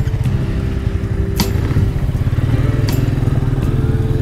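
Royal Enfield Interceptor 650 being ridden, its steady engine drone running close and continuous throughout, with a couple of brief clicks or rattles over the rumble.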